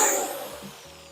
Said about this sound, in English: that quarter drill always catches me off guard with the power it has